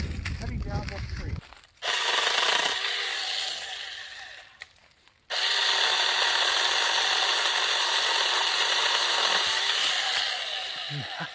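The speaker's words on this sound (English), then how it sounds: "We're going to go ahead and start cutting down that tree." A battery-powered 4-inch mini electric chainsaw cuts into a tree with a steady close whine and buzz in two long runs, separated by a brief dip, after a short stretch of handling noise.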